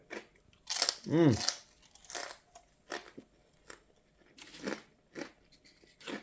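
Thin homemade chips crunched and chewed close up on a homestead, a series of sharp brittle crackles in irregular bursts separated by quiet pauses, with a voice briefly sounding among them.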